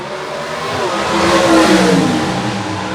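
Gasser drag race cars launching hard off the line at Shadyside Dragway, a loud, close engine roar that swells to a peak of full-throttle revving midway and then holds steady.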